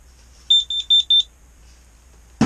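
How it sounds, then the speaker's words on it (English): A carbon monoxide detector being tested inside an ice fishing tent gives four loud, close, evenly spaced electronic beeps, then falls silent before a brief clunk. "That's a carbon monoxide detector."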